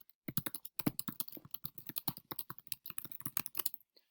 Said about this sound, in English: And then you just type whatever it is that you want to have your students answer.